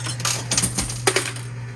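Coins clinking and clattering inside a coin pusher arcade machine in rapid-fire mode, a quick burst of metallic taps and jingles over a low steady hum.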